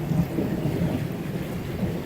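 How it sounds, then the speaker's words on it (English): Low rumbling thunder rolls through a Florida summer thunderstorm, a steady dense roar with rain and wind noise mixed in, continuous and moderately loud throughout. "Hear the thunder rolling."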